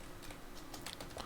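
Keys tapped on a computer keyboard while writing code, a quiet, irregular run of light clicks over about a second with no voices.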